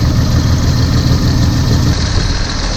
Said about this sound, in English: Alright, engine idle is set.